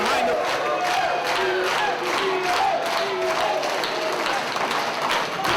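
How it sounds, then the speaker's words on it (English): A capacity crowd at a professional wrestling show in Crystal River roars and claps continuously, with rhythmic chant-like surges and scattered shouts filling the hall. "As you hear this capacity crowd here in Crystal River getting behind the"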